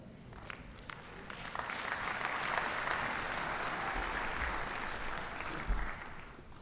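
An audience at a 2019 inauguration ceremony applauds in a sustained, even wash of clapping. It sounds soft and somewhat distant and swells slightly before easing off.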